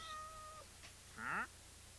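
A cat gives two quiet meows indoors, a short tonal mew followed after a pause by a brighter rising one, faint against a low background hum.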